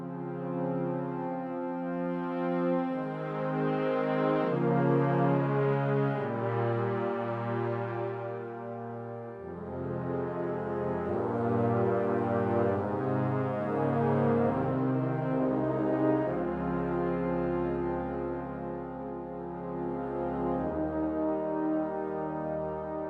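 Warm orchestral brass from the Crow Hill Company Marshall Brass plugin plays slow, sustained chords in a stately, smooth progression, swelling gently and never turning harsh.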